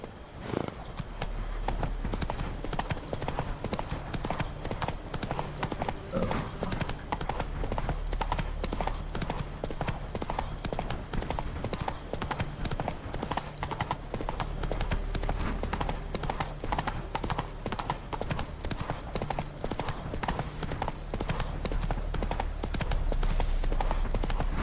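A horse gallops steadily in The Witcher 3. The rapid, rhythmic hoofbeats run throughout over a low rumbling background, with an occasional whinny.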